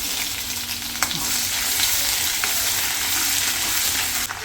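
Cashews, chana dal and ginger fry in hot oil, a steady close sizzle with a couple of faint stirring scrapes, no talking.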